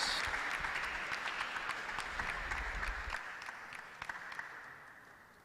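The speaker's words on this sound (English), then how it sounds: "please another round of applause for Mr. Aaron Venkataraman" Audience applause at a U.S. Presidential Advisory Council event with leaders in Nigeria, a full round of clapping that gradually thins and fades toward the end, with a few louder individual claps standing out.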